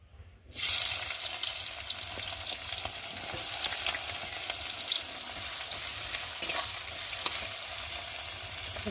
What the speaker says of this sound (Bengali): কড়াতে সর্ষে তেল দিয়েছি, আর এখন পেঁয়াজগুলো দিয়ে ভালো করে ভেজে নেব।